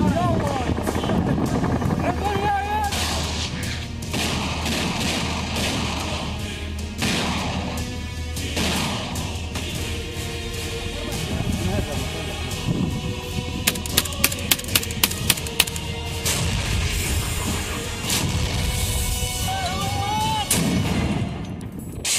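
Rattling gunfire and heavy artillery blasts during Syrian army fighting against militants, with sharp bursts of rapid shots mid-way and rumbling explosions throughout, under a narrating voice.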